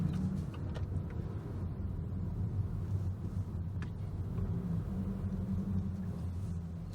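A car drives along the road with a low, steady engine and tyre rumble that continues evenly throughout, heard from close by with no talking.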